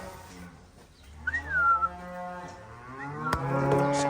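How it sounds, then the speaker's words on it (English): Cows in heat on a farm low and moo in long drawn calls, one after another, fairly close and alone with no talk. "Got cows in heat over here."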